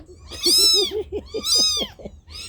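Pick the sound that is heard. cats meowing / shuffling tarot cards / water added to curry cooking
cats meowing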